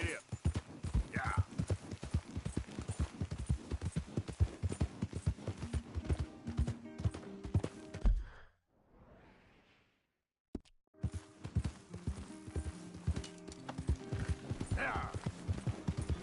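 Horse hooves clip-clopping in a fast steady rhythm while riding in Red Dead Redemption 2, loud and close, broken by a brief quiet gap before the gallop resumes; someone speaks briefly over it.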